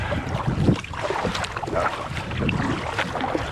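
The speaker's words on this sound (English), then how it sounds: "Now I'm going against the wind." Wind gusts buffet the microphone while a canoe is paddled on a lake in the Adirondacks, a rough, loud rushing with water splashing beneath.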